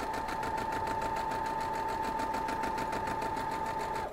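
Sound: sewing machine sewing quilt block pieces

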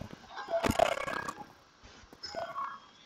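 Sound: chickens clucking in a video game

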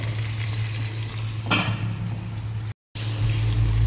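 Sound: onions and gongura frying in oil

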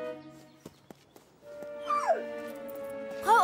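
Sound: rescue dog whimpering

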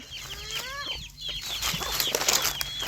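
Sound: bantam chickens clucking at feeding time

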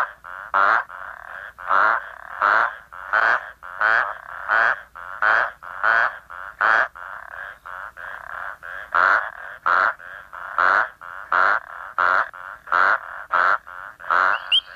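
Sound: frogs calling at night in a bushveld pond

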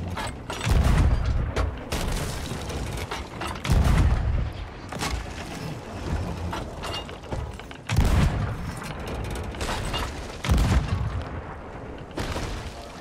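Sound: ship cannon fire in the video game Sea of Thieves

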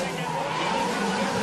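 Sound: drift car tires squealing and skidding

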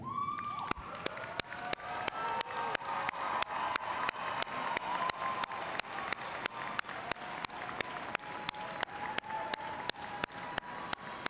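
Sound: audience applauding at a commencement ceremony

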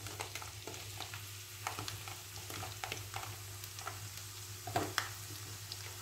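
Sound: garlic and onion sautéing in a pan

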